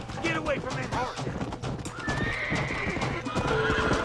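Horses in the Red Dead Redemption video game clop and whinny through a busy scene, with hoof beats running steadily under game speech and a neigh rising clearly near the end.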